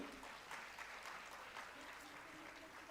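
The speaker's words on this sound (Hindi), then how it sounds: "जोर से तालियां इन लोगों के लिए" Applause from an audience at a Swami Vivekananda Yoga Kendra gathering in Ulhasnagar, faint continuous clapping with a low hum underneath.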